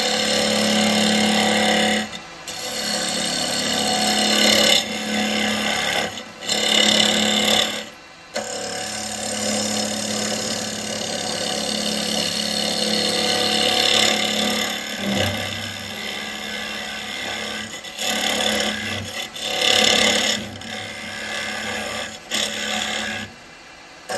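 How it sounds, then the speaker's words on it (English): Woodturning lathe hollowing a wooden basket-weave pot with a 40mm square chisel, a loud continuous grinding, scraping roar that cuts out briefly several times as the tool lifts from the wood, with no talking. "the quickest way for me to hollow this is to use a 40mm square chisel."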